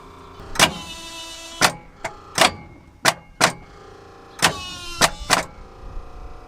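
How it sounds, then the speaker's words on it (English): Starter motor on an old abandoned combine's diesel engine, compression-ignition with no glow plugs and a small battery, whirring in about eight short, close, separate bursts with quiet gaps between and no voices. "let's see if this thing will crank"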